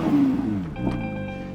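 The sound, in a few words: car engine revving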